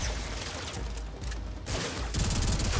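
A Karak rifle in the video game Warframe fires a rank 3 fire-rate-modded burst at about 17 rounds per second. The shots run together into a dense, continuous rattle that swells slightly near the end.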